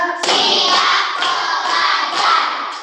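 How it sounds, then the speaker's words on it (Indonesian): A fourth-grade class claps together in a counted routine, dense crowd-like clapping from many children sustained throughout with periodic sharper bursts marking each count, loud and close. "Tepuk satu. Tepuk dua. Tepuk tiga. Tepuk empat."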